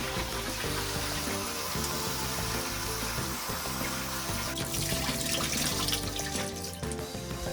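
Tap water runs steadily over urad and kidney beans being washed together in a bowl, a continuous close splashing and gurgling that holds at an even level with no talk.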